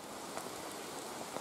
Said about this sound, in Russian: Вот это ливень.